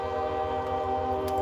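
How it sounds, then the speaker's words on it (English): A train rumbles past outside at close range, its loud, steady drone and bright sustained horn-like tones filling the whole stretch with no gaps or talk. "I am going to pause my reading for a second while the train goes by, because it's pretty loud"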